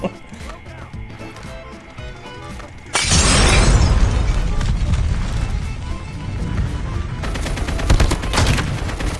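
Heavy sustained gunfire in Call of Duty Mobile, a loud continuous volley of shots that begins abruptly after a quieter stretch and keeps going to the end, with a player talking over it.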